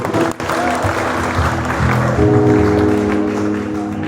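Applause from a church congregation during a worship service, a steady dense wash of clapping that holds throughout, with voices mixed in.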